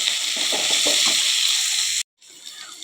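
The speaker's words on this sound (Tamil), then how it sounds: "காயை போட்டுக்கலாங்க. நல்லா வதக்கி எடுத்துக்கலாம்." Okra sautéing with salt in a pan gives a steady, close sizzle, with a few soft stirring knocks early on and a brief cutoff near the end before the frying hiss resumes.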